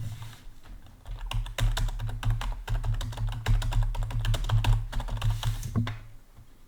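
Computer keyboard typing, a steady run of close, crisp key clicks in irregular bursts over a low background hum, with no speech.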